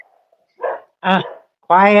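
Small dog giving three short barks and yips, close and fairly loud, with a person speaking briefly between them.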